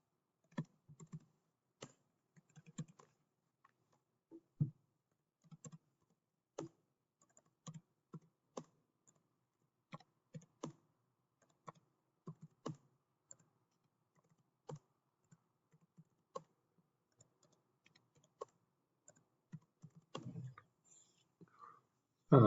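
Data being typed on a computer keyboard: irregular bursts of quiet, close key clicks with short pauses between runs, in an otherwise silent room and with no talk.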